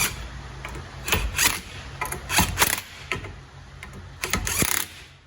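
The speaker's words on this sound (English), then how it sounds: "We are going to grab our socket driver." Socket driver ratcheting while tightening a rifle barrel held in a barrel vise, with bursts of quick mechanical clicks in several short groups, near and fairly loud.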